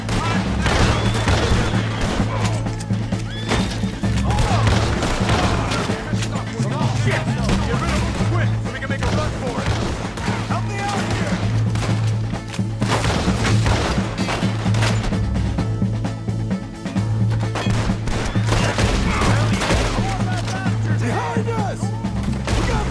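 Heavy gunfire in a Red Dead Redemption shootout, with dense overlapping volleys of shots and booms rattling continuously over a low droning background, loud throughout.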